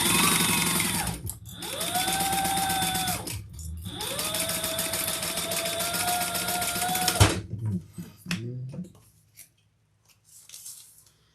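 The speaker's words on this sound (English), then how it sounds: "Turn that up and top stitch on both sides for this one." A sewing machine top stitching a crossbody bag, running in three loud, steady whirring bursts that rise in speed and then stop, close, followed by a few quiet handling clicks.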